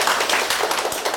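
Students applauding in a lecture hall, a brief burst of steady, dense clapping with no pause, close and fairly loud.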